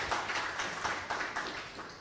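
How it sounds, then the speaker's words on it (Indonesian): Audience applause at an Islamic mosque seminar, heard as a steady wash of many hands clapping together, moderately distant and unbroken for the whole stretch. "Tepuk tangan untuk panjenengan semuanya."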